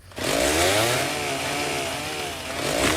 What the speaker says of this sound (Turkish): bize beleşten şöyle bir, bir testere veriyor. Gördüğünüz gibi bir bu, bu tür ağaçları kesebiliyor